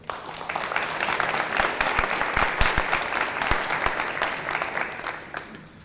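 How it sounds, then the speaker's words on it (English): Sustained applause from an audience at a high school top ten recognition program, many hands clapping in a dense, loud wash with a few sharper nearby claps, fading toward the end. "please give a round of applause"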